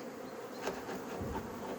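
Many bees drone at an Apimaye insulated hive in a dense, continuous buzz close by, with no voices.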